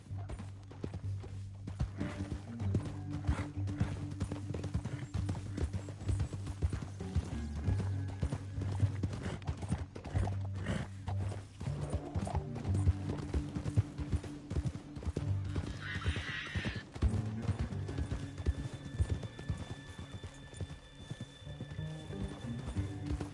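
Steady clip-clop of horse hooves trotting at an even rhythm in Red Dead Redemption 2, with a low rumbling background and a brief whinny partway through.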